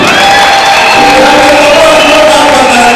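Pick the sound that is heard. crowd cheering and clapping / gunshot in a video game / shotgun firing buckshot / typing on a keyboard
crowd cheering and clapping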